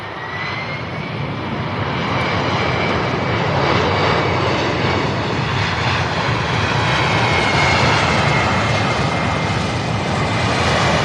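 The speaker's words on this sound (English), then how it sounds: "they're replacing the MD-11s slowly but surely with some with the 767s" A UPS Boeing 767 cargo jet roars at SDF airport in Louisville, a loud, steady, broadband engine rumble that swells slightly midway and stays close and continuous throughout, with no voices.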